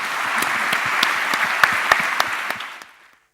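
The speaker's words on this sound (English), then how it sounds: "So please do me the favor and just give them applause as well." Audience applause at a live-streamed gathering in a Google room, a steady dense wash of clapping with a few sharper individual claps standing out, continuing evenly before tapering off to silence near the end.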